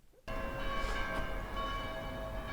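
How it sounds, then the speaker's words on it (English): Church bells ring in the Italian town of Galatone, starting abruptly and sustaining a bright, layered ringing tone with a steady hum beneath, moderately distant and alone. "Church bells."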